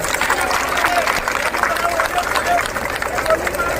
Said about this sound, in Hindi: सबसे पहले जोरदार तालियां अपने लिए बजेगी